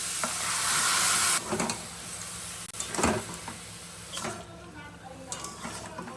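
Boiled potatoes and broccoli stems drop into a spiced pan and fry with a bright hiss that cuts off abruptly, then come scraping stirs and utensil knocks over a quieter sizzle, close by.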